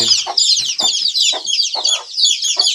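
Dense, continuous clucking from a flock of native (nati) chickens on a small farm, with overlapping calls and short bursts throughout; close and fairly loud, no voices.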